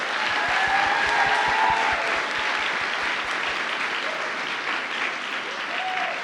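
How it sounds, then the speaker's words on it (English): Applause from a banquet crowd at a chamber of commerce annual awards ceremony, full and continuous, with a few brief cheers in the first seconds. "please, a round of applause for Miss Lisa Peacock"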